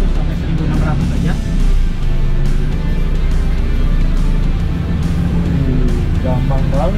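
Mercedes-Benz truck engine climbing a very steep incline in first gear with the interaxle engaged at 1200 to 1600 RPM, a loud, steady low rumbling drone heard from the cab under a voice.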